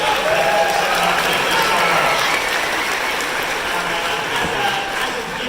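A cinema audience at an Alien Day screening at The Astor applauds in a dense, sustained wash of clapping that holds steady throughout, with a few cheers mixed in.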